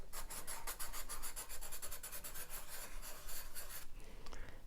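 A soft, plastic-coated charcoal pencil scratches across paper in quick back-and-forth strokes, producing a close, dry rasping that pauses briefly near the end, with no voices.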